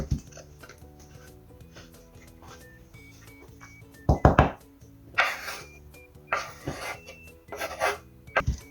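Bryndza cheese being rubbed on a grater gives several short, close rasping strokes in separate bursts, starting after about four seconds of near quiet with faint ticking handling sounds.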